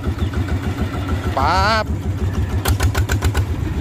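A homemade single-cylinder power tiller converted into a mini pickup truck runs with a steady low thumping engine pulse, heard up close under a man's speech.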